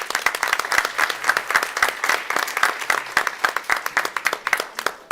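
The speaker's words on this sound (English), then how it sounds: "So how about a round of applause for our parents?" Applause for parents at a Cuyahoga Falls City Schools board of education meeting: a room of people clapping steadily with sharp, dense individual claps, fairly close and sustained throughout.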